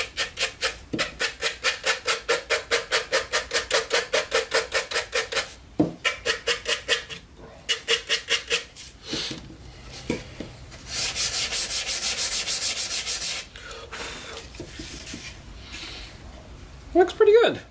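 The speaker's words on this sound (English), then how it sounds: "A little sanding." Hand sanding along the top edge of a wooden birdhouse, with quick rhythmic rasping strokes close up, then a pause, and a longer rougher stretch of rubbing; a person speaks briefly in between.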